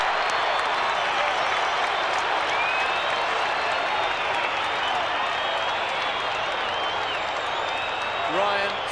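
Collingwood supporters at a 1987 AFL football match against Melbourne cheer and applaud a goal, a dense, steady roar of crowd noise filling the stadium throughout.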